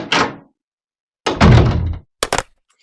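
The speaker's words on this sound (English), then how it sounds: "I heard the door slam." A door bangs shut with a heavy thunk, preceded by a softer earlier thud and followed by a couple of quick rattling knocks, all close and loud against silence.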